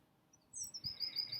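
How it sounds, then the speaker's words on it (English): Birds sing in a leafy West London back garden, a few thin, high chirping notes repeating in a quick series, faint and fairly distant over a quiet low background hum. "You can probably hear the birds singing."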